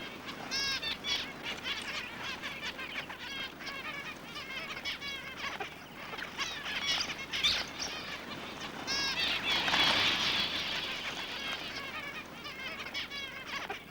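Australian grassfinches calling in a dense chorus of many small birds, with repeated chirps and trills overlapping at close range, continuous and moderately loud with no talk.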